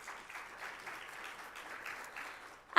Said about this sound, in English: Again, it